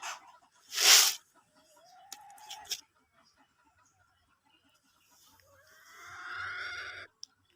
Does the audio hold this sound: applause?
no